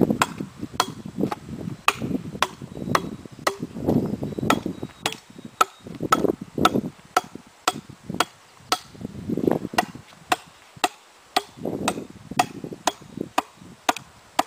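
Sharp rhythmic chops ring out as an axe or hatchet cuts notches along one side of a log to make lumber. There are about two dozen crisp, evenly spaced strikes at close range, with no talking.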